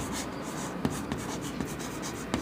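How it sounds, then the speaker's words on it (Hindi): A line is written on the board during a maths lesson, giving a soft continuous scratching of strokes punctuated by a few light taps as the writing tool lifts and lands. "हाइट ऑफ प्लेटफॉर्म निकालने से पहले हम ये लाइन लिख लेते हैं"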